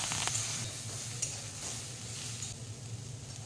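Vegetables, flat beans and eggplant, frying in a kadai on a gas stove set to low flame, giving a steady soft sizzle with faint stirring scrapes and no talk.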